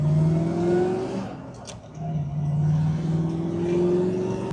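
A 1961 Chevrolet Corvette convertible with a fuel-injected 283 V8 and four-speed drives with the top off, its engine droning steadily, easing off briefly, then pulling again, close and loud with wind noise.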